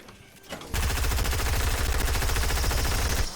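Pistol fire in the video game Fortnite, a rapid burst of loud, evenly spaced shots running for nearly three seconds after a short quiet lead-in.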